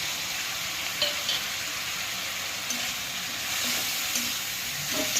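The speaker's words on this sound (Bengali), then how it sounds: "ভালো করে তো নাড়ি চাড়িয়ে কষিয়ে নিয়েছি।" Spices with salt, turmeric, coriander, chili and cumin powder fry and sizzle in a pan for puti fish curry, a steady close hiss broken by occasional scraping clicks of stirring.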